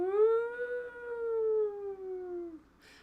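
A voice imitates an ambulance siren with one long wailing tone that slowly falls in pitch over about two and a half seconds, close and alone, ending in a brief breathy noise.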